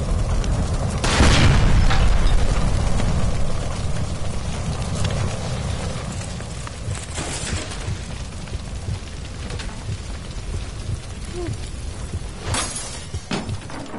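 A gas line blast in L.A. Noire at the Nicholson Electroplating plant: one heavy booming explosion near the start, followed by a long rumbling, crackling tail of debris and fire settling under steady noise, with a few sharp cracks later.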